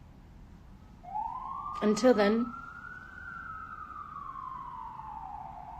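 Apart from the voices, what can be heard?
emergency vehicle sirens in New York City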